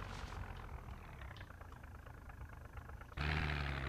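A car engine in the zombie survival game Project Zomboid, a low idling rumble that suddenly swells louder near the end as it revs up.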